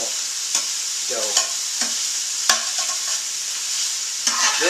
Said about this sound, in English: All we need to do is let this saute up first.